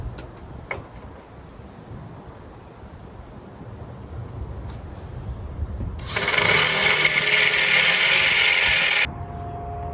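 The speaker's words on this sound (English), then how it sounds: "I just drilled a pilot hole. Now I'm going to go through." A power drill with a 17/64 bit bores through the material for a 1/4 inch bolt on a portable winch mount; a loud, steady high whine runs for about three seconds midway, after quieter handling noise.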